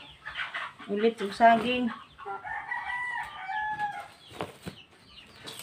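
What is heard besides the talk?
chickens clucking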